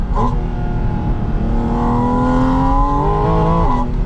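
A 2025 Porsche Spyder RS engine accelerates hard with a rising induction roar, its pitch climbing steadily through the gears, loud and up close.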